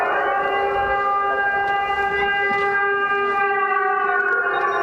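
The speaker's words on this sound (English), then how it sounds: "Every time the siren is here, I just tell her that it's fireworks, so we need to hide" Air raid siren wailing over the city of Lviv, Ukraine, a steady sustained tone with layered harmonics that holds throughout without pause, fairly loud and distant-sounding, with no voices.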